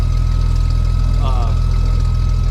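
Aircraft engine running up after start during recurrent pilot training, a loud steady droning hum with a pulsing low rumble and a brief rising whine partway through, heard under a cockpit voice talking.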